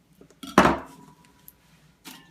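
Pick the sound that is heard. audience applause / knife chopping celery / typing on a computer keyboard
knife chopping celery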